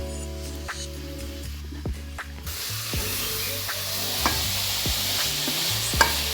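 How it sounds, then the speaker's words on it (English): Matumbo fry with vegetables (mboga) sizzles and hisses in a pan while a utensil stirs through it, scraping with a few light knocks over a constant frying hiss; no one speaks. "Stir your mboga."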